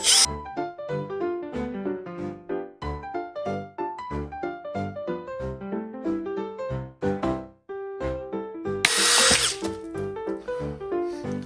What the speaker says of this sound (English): So let's take our pieces of ice and drill.